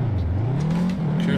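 A BMW M5 drift car's engine revs up close, its pitch climbing steadily through a short, loud burst of acceleration.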